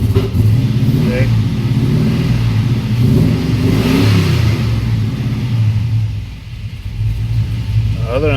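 A throttle-body-swapped LS V8 in an OBS truck revs up and stumbles with a slight hesitation, loud and close, a steady deep rumble throughout, with someone talking over it.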